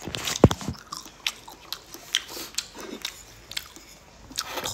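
Close-up biting and chewing of food with egg and a cooked dish, one sharp crunchy bite followed by steady squishy mastication and soft smacks, no talking.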